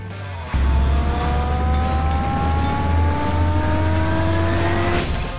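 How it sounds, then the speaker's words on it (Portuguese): In the LEGO City Undercover video game, a motor starts abruptly and runs loud and close, its pitch climbing steadily as it revs for several seconds before cutting off. "Posso usar este motor para conseguir abrir aquela porta blindada."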